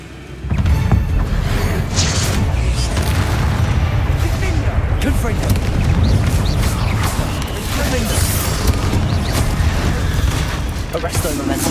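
Confringo fire-spell explosions in the Hogwarts Legacy video game: a continuous, loud barrage of booming blasts and crackling bursts over rumbling combat noise, with a voice speaking through it.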